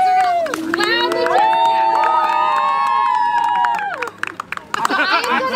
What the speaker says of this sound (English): Everybody cheer for them.